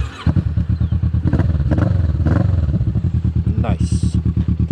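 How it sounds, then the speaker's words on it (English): Cruiser motorcycle with a Delkevic exhaust revs up in rapid, throbbing pulses, loud and close, its beat quickening and easing, with a brief high whine near the end and a voice talking underneath. "It's got a Delkevic exhaust on it, so it sounds beautiful."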